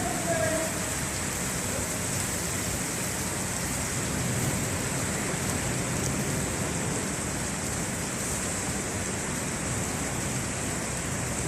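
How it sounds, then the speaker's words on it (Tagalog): Heavy rain pours down on buildings and streets in Sharjah, UAE, a dense, unbroken hiss that holds steady and loud throughout. "Ang lakas ng ulan."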